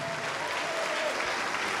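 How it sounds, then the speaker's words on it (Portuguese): A church congregation claps together in a brief, dense burst of applause, a continuous steady patter with no voices over it. "Vamos aplaudir mais,"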